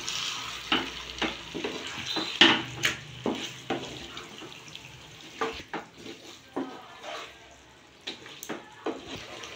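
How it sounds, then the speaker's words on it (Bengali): Chicken being stirred with yogurt in a pan, with scraping utensil strokes and soft sizzling recurring in an uneven rhythm, close up and moderately quiet with no talking. "একটু নেড়ে নেবো।"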